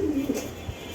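A pair of pigeons, a male and a female, coo softly close by, a low rounded murmur in the first half that fades under faint room noise.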